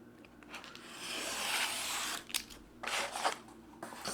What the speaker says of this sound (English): I'm going to trim this accordion to size